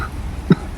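One short, sharp cough from a person, a brief isolated burst against a low background murmur.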